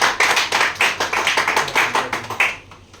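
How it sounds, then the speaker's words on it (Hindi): A group at a Congress party meeting claps in welcome for a guest, brisk rhythmic applause with distinct repeated hand claps, close and loud, tapering off near the end. "बहुत जोरदार ताली के साथ स्वागत"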